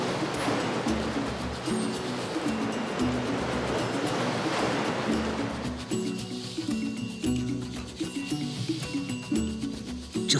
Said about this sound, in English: where the open Indian Ocean meets the southeast coast of Africa.